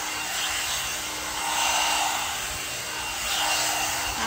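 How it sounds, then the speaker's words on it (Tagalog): A one-step hair dryer brush blows while drying hair, a loud continuous whooshing airflow that swells and dips as the brush moves, close to the microphone and with no voices. "Nagtutuyo na yung hair ko."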